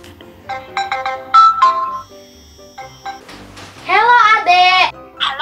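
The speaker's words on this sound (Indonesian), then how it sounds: "Dan kita telepon Kira." A smartwatch rings with an incoming call, playing a melodic ringtone in bursts of chiming tones, with a voice and other speech heard around it indoors.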